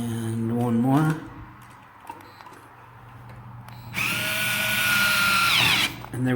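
A Craftsman 4V cordless screwdriver runs in short bursts. A brief rising whir is followed by a quiet pause, then a longer, louder buzzing run that stops abruptly near the end, heard close up.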